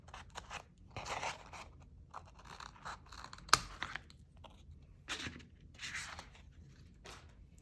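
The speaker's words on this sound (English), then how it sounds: "And I'll just cut this out." Scissors snipping through craft material coated with permanent glue stick, for chunky sparkle carrot earrings; a few quiet, crunchy cuts in short bursts with one sharp snap near the middle, close and alone.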